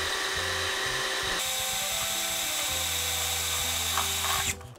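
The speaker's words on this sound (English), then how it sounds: "I'm going to drill through a bunch of my cups at once" A power drill whines steadily as it bores through stacked plastic cups, motor pitch shifting, then cutting off abruptly at the end.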